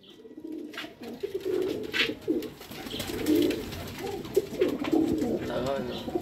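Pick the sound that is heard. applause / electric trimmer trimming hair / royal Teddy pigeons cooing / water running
royal Teddy pigeons cooing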